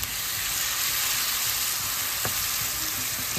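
Chopped tomato hits hot oil and spices for a lotus root curry, setting off a loud, continuous sizzle with a light clack of a utensil partway through.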